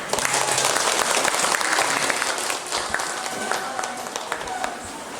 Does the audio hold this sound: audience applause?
yes